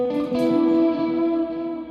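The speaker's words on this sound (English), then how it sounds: "wrong reverb" A sustained melodic tone is played through a heavy reverb effect on an electronic instrument, a single held note with a smeared, ringing tail and a slight change of pitch partway through. The sound is clear and fairly loud, with no voice.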